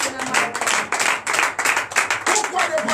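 A church congregation at a morning prayer service in Benin claps for God in dense, rhythmic bursts, loud and close, with voices mixed in beneath the clapping.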